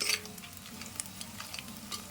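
Biryani spices, bay leaves, onion and green chilli frying in oil in a clay pot, a faint low sizzle with soft crackles and occasional small clicks of stirring, no talk.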